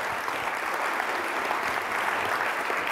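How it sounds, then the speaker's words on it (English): Sustained audience applause in a conference room at a business summit, an even, dense roll of many hands clapping throughout, with faint crowd murmur underneath. "a big round of applause"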